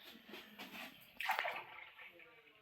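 Milk poured into a measuring jug in a home kitchen, a soft liquid slosh and splash that swells midway, heard close under nearby conversation.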